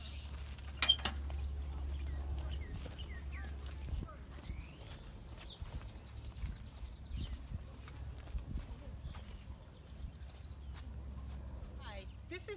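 A Belgian draft gelding walks around a farm, its hooves giving soft, irregular clip-clop steps at close range over a steady low rumble, with occasional birdsong and faint background voices.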